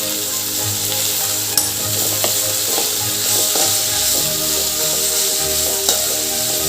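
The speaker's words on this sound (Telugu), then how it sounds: "ఆయిల్లో ఫ్రై చేసి అల్లం ఇలా కాసేపు ఫ్రై చేసుకున్నాక" Prawns fry in hot oil with ginger and garlic, with ridge gourd nearby, making a loud, continuous sizzle close up, broken by a few light clinks of stirring and no speech.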